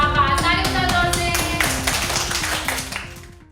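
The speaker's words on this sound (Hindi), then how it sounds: "ताली बजाओ जोर से।" Loud, rapid rhythmic clapping from a group of children in a classroom, a steady run of sharp claps that fades toward the end.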